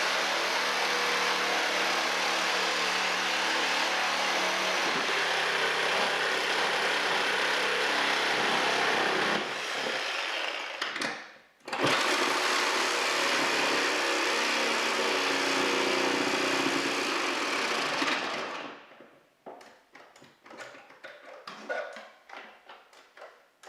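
A Harbor Freight Chicago Electric reciprocating saw cuts through screws with a wood-and-metal blade, giving a loud, steady motor buzz that drops out briefly, runs again, then stops and leaves scattered handling clatter.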